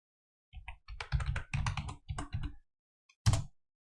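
Close computer keyboard keys are tapped in several quick bursts while a password is entered, with short gaps between clusters and a final sharper keystroke after a pause, in an otherwise silent room.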